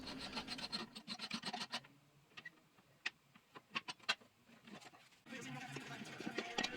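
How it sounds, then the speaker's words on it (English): A hand file rasps along sharp edges of a metal part while restoring a Shopsmith base. Close, uneven scraping strokes come in bursts, with quieter gaps and a few sharp clicks between them. "I finished it up with a file to take off any sharp edges"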